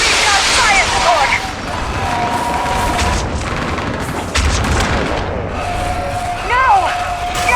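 Gunfire and fire-support explosions crackle and boom in the Mass Effect 3 battle on Thessia, with repeated sharp shots and heavy blasts under game music and tones, loud and close throughout.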